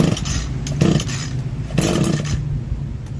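An Echo SRM-225 string trimmer's small two-stroke engine sputtering into life with the choke on, rough bursts of engine roar rising and falling in two surges before settling into a steady idle.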